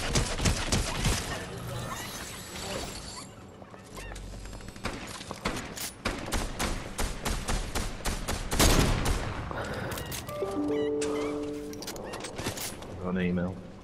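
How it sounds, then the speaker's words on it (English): Gunfire in the Fortnite video game comes as rapid bursts of sharp shots, some near and some farther off, mixed with clicks and clatter while players talk over it. "Someone else is shooting now."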